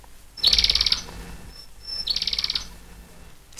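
A canary in a golden cage sings two short bursts of rapid, high trilling chirps separated by a brief pause, clear and close with no talk.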